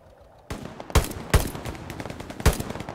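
Gunfire in the World War II shooter game Hell Let Loose: a few sharp shots at irregular intervals, some loud and close, others fainter, over a steady background of battle noise, with no talking.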